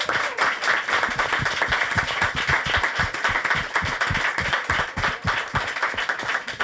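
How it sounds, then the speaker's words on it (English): An audience at a panel discussion claps steadily in a warm, sustained round of applause, dense and even throughout with no talking. "Let's give them a nice round of applause."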